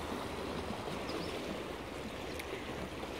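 A river at Lourdes rushes over a rocky bed, making a continuous broadband wash of water that holds steady and fairly loud throughout, with no voices.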